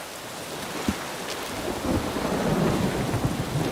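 Thunderstorm in The Witcher 3: steady rain hiss with a sharp thunder crack near the start, then a swelling, louder rumble and downpour building toward the end, with no voices.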